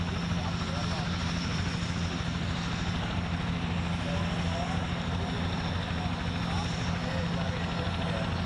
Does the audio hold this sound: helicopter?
yes